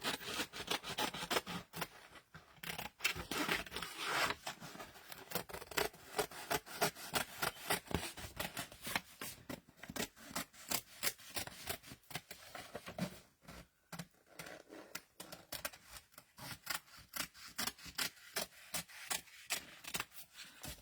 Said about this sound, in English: we're just going to trim this up just like this